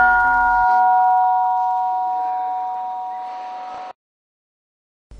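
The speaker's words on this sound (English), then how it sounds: "the gong hit for the breakfast" A gong struck once to call monks to breakfast at a forest meditation monastery, ringing with a bright sustained tone that decays slowly for several seconds before being cut off, nearby and alone.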